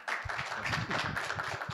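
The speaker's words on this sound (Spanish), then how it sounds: "Un aplauso y bienvenida." Audience applause welcomes a speaker at an executive-education session on family businesses, a fairly faint but steady patter of clapping hands from a modest group lasting under two seconds.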